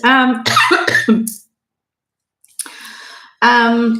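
Two bursts of coughing, harsh and close, separated by a short silence, with throat-clearing rasp between harmonic vocal sounds.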